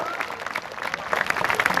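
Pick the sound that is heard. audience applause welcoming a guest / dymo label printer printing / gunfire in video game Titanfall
audience applause welcoming a guest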